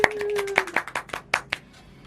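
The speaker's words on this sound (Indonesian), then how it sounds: "Boleh tepuk tangan teman-teman?" A small podcast audience claps briefly on request, a short scattered run of individual hand claps that thins out and stops within two seconds, with a voice trailing off at the start.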